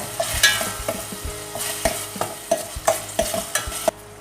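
Onions frying in a kadai are stirred with about a dozen sharp scrapes and clinks, spaced at a loose, even rhythm over a continuous close sizzle, with no voices.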